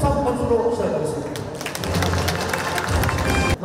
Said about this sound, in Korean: 대북 2023 개막식을 이 자리에 계신 여러분들과 힘찬 박수로 시작하겠습니다